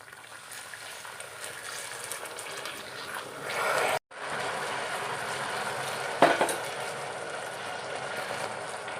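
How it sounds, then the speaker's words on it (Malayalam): Water poured into melted sugar in a pan while making mango preserve, a rising rushing, bubbling hiss that cuts off abruptly, then resumes as a steady boiling bubble with a brief sharp crackle, no voices. "കുറച്ച് വെള്ളം ഒഴിച്ചു കൊടുക്കാം."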